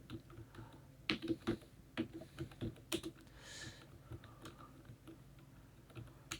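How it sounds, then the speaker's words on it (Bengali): Quiet, irregular clicks and taps come from fingers typing on a computer keyboard, heard close up in bursts with brief pauses. "তো এইভাবে আপনারা টাইপ করবেন।"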